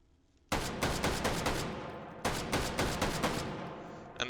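An M1941 Johnson .30-06 rifle fires in the video game Hot Dogs, Horseshoes & Hand Grenades: a rapid string of about six sharp shots, a short pause, then another quick burst of five, loud and close.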